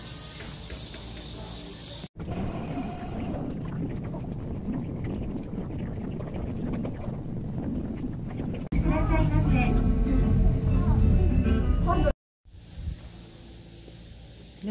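A theme park monorail car rumbles uphill, with steady close mechanical hum and wind noise cut into segments by abrupt breaks, one section louder and harsher, while people talk over it.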